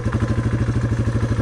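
Single-cylinder motorcycle engine, a Yamaha TW200 or Kawasaki KLX250, climbing a hill under throttle; a loud, close, rapid steady thumping pulse with a rough clattering edge.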